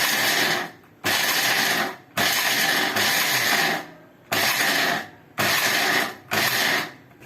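A blender pulses dates lightly in short bursts, about six loud, close whirring spurts of roughly a second each, with brief pauses between them.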